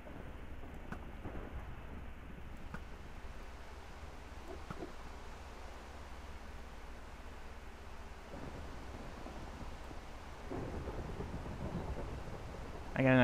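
A thunderstorm in the Minecraft video game: steady rain hisses throughout, broken by low rolls of thunder, with a louder rumble swelling near the end.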